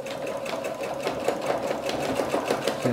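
A sewing machine stitches a jeans hem with gold mustard-colored thread, its needle hammering in a fast, even rhythm close to the microphone for the whole span.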